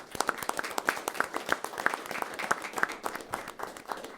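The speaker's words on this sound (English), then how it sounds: "give them a big round of applause" A small group claps for a few seconds at a board meeting, sharp individual claps fairly close, steady and moderately loud with no talking.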